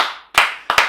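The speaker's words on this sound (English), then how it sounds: "that deserves a round of applause" A few sharp hand claps after a remark, starting with one loud clap and then a quick close pair, each ringing out briefly.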